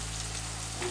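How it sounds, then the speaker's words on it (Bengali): Ginger paste stirred and fried in hot oil for a Bengali mushroom butter masala, giving a short, steady close-up sizzle with a faint low hum beneath and no talking. "আদা বাটা তেলের সাথে নেড়ে নিচ্ছি"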